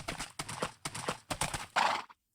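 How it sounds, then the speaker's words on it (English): Horse hooves clip-clop in Minecraft on the Hypixel SMP server, a few steady bursts of trotting close by, ending in a brief louder scrape before going quiet. "let's grab the old horse"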